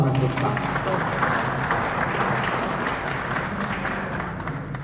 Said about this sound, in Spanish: Fuerte aplauso para nuestros santos.